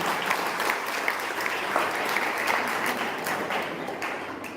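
An audience at a Johar Kala Manch cultural programme in Dhamtari, Chhattisgarh claps steadily, a broad continuous wash of applause that stays even throughout with no voices on top.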